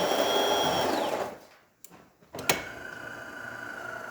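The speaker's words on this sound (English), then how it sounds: "It's going to start grinding." A DeLonghi Magnifica espresso machine grinds coffee beans with a steady whir on grind setting 3, then winds down to near silence, followed by a couple of clicks and a sharp clack before a fainter mechanical hum resumes.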